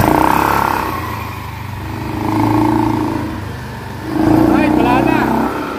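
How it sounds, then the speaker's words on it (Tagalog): A motorcycle engine revving after a CVT repair, rising and falling in two or three swells of throttle, close and loud with mechanical clatter and someone talking over it. "Sir, raket mo na yung motor mo"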